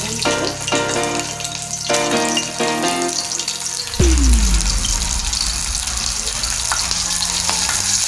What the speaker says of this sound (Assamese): তাৰপাছত মই পাঁচফোৰণ গৰম তেলত দি দিছোঁ। কাটি লোৱা জলকীয়া ফালি লোৱা দি দিম।